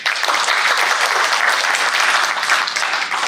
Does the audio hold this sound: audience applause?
yes